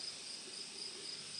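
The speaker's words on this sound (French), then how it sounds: "On entend les petits grillons." Crickets chirp at the edge of a field beside a large pine in Estrie, a faint, steady high trill repeating in a soft outdoor setting.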